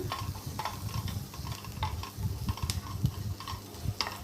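Sliced onions sizzle in hot oil with salt and turmeric over a high flame for a brinjal tomato curry, with steady frying crackle and repeated stirring scrapes close up, no talking.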